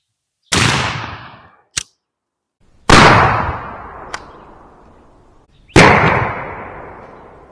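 Three loud, close blasts from a Winchester 12 gauge shotgun firing vintage Remington Express 2.75-inch shells with No. 7.5 shot, each booming report decaying over a second or more, with a quick mechanical clack of the action between shots.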